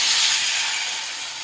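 Potatoes hitting hot oil seasoned with cumin, bay leaf and dried chilli, giving a loud, dense, bright sizzling hiss that eases off slightly over a second and a half.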